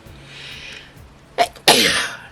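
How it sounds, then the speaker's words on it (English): A single person sneezes twice in a quiet indoor room during a crochet lesson, a short sharp burst followed by a bigger, louder sneeze with a breathy tail. "I had to sneeze."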